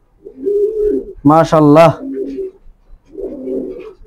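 A balance-line female pigeon and others coo in soft, low repeated phrases at close range, with a brief spoken word interrupting in the middle before the cooing resumes.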